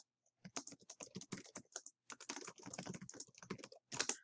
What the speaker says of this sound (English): if you wanted to test your keyboard